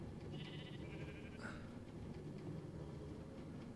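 Sheep in the video game Minecraft bleats once, a short wavering call, then gives a brief sharper bleat, faint and somewhat distant over a steady low background hum.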